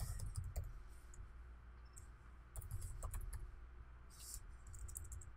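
Quiet typing on a computer keyboard, a light patter of clicks in short runs with brief pauses, soft and close against a faint background hum.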